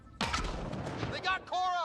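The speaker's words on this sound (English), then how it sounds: "Grenade incoming." Grenade blast in the sci-fi shooter Mass Effect Andromeda: a sudden loud broadband boom with a rumbling tail and scattered crackle, followed by a brief tonal game sound. A voice joins near the end.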